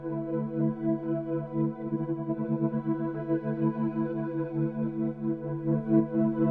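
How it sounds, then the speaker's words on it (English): Droning ambient synth pads with chorus, distortion and echo effects hold low, thick sustained chords that swell and pulse gently throughout, with no talking. "I kind of wanted to get some like droning ambient pads"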